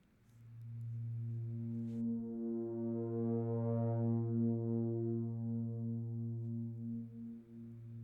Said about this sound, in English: And RetroSynth, listening on the next channel,